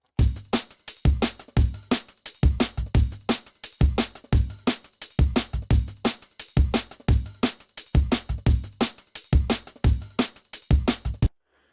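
Drum and bass drum loop from a sample pack, fast punchy kicks and snares with crisp hats in a repeating breakbeat pattern, loud and dry with sharp transients and no voices.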